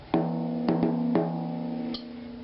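A drum, freshly finger-tightened, struck about five times, each hit ringing on with a sustained low humming tone that carries between strokes.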